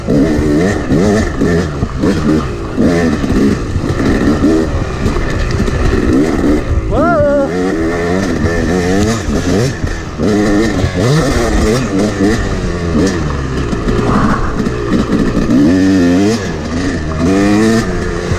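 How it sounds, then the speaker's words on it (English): Yamaha YZ250 two-stroke dirt bike engine revving hard and close, its pitch rising and falling repeatedly as the throttle opens and closes, loud and continuous with some rattling. "Dirt bikes are so cool."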